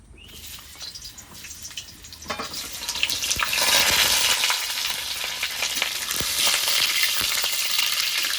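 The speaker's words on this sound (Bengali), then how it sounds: "তেলটা গরম হয়ে গেছে এবার পটলগুলো ভেজে নেব" Pointed gourd pieces hit hot mustard oil in a kadai, bursting into a loud, crackling sizzle that swells and holds steady with bursts of spattering, no talk over it.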